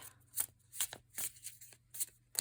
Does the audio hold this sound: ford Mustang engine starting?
no